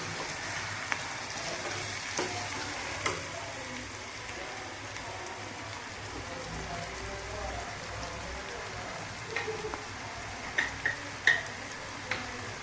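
Onions frying with gongura in a pan for a raw prawn gongura curry, giving a steady soft crackle with a few sharper ticks, quiet and continuous with no talk over it.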